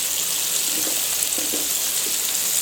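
Country-fried ribs sizzle slowly in a pan, a steady, close hiss of hot oil that carries on evenly throughout with faint crackles.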